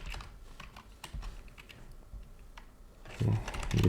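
Rapid typing of terminal commands on a computer keyboard, a steady patter of close, crisp keystrokes with brief pauses, ending in a few heavier, denser key hits.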